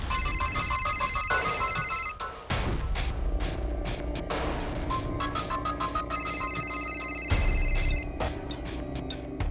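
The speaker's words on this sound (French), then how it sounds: "Rocky, ton téléphone sonne." A mobile phone ringtone plays a repeating electronic melody against dramatic background music with loud booming hits, all from a drama series.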